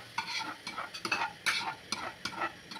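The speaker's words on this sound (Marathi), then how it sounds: "हे सगळं मसाला मी याच्यामध्ये मिक्स करून घेत आहे." Masala is stirred into hot oil in a pan for a dhaba-style paneer curry, a spoon scraping in repeated quick strokes over a soft steady sizzle, close and fairly quiet, with no talking.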